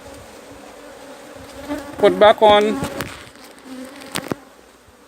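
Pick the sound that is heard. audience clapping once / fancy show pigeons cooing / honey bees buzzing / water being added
honey bees buzzing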